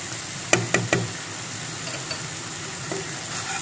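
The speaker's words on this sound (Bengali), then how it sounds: "আমি প্রত্যেকটা মশলা দেওয়ার সময় প্রত্যেকটাকে বারবার ফ্রাই করে নেব।" Spices and hot chili frying for a chicken curry, a steady sizzle in the pan punctuated by three sharp knocks of a spoon near the start and a few lighter taps later.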